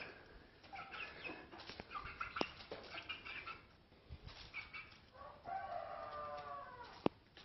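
A rooster, a giant chicken breed, crows in the distance, its call rising and falling, with a second crow later over faint outdoor background noise.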